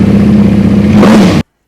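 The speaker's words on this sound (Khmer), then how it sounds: "ស៊ីម៉ាំងថ្មីម៉ាក CF Racing ត្រូវបានបំពាក់និងបញ្ឆេះសាកល្បងតោះស្ដាប់សំឡេងទាំងអស់គ្នា" Close up, a Ducati Panigale V4 fitted with a new CF Racing exhaust revs in a deep, loud, steady engine roar that swells briefly near the end before cutting off abruptly.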